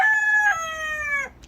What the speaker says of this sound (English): how often Barry crows during a filming